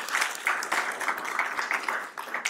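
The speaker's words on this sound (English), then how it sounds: "Give him a round of applause." Audience at a Black History Month celebration gives a round of applause, dense, continuous clapping from a sizable crowd filling the room at even loudness.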